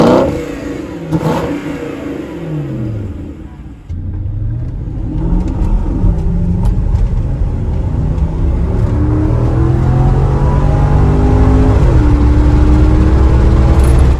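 A 2010 Porsche Cayenne GTS is driven hard, its engine revving loudly and climbing in pitch through repeated accelerations and gear changes. A brief lift-off drops the sound before it builds again to a sustained, close roar.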